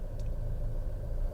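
Jeep Compass TD350 diesel engine heard from inside the cabin, a steady low rumble, moderate and continuous without talk.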